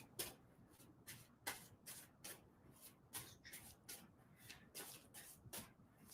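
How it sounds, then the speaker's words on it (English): Tarot cards being shuffled by hand in a quiet room, a steady run of crisp riffling bursts and soft slaps about every half second, close and fairly faint, with no talking. "tell me to stop shuffling your cards"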